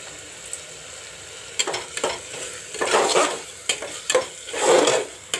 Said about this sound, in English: The daal is fried up with the onions and tomatoes